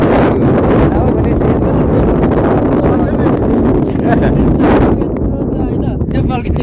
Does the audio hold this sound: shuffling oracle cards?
no